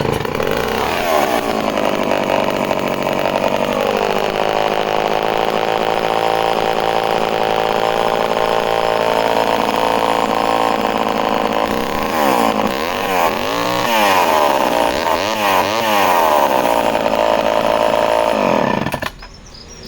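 A chainsaw engine, a Homelite C51 or Partner R12, runs loud and close for a long stretch, idling with a buzzing drone and revving up and down in repeated bursts near the end.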